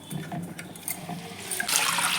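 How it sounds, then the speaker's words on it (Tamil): Masoor dal lentils washed in water, a close, running sloshing and pouring of water that grows louder toward the end. "இப்போ பருப்பு நல்லா கழுவி வச்சு இப்போ தண்ணி சேர்த்துக்கிறேன்."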